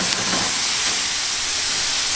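Soy sauce hits a hot wok in a Korean-Chinese kitchen cooking yusanseul seafood stir-fry, giving a steady, loud broadband sizzle and steam hiss that holds evenly without pause and with no talking.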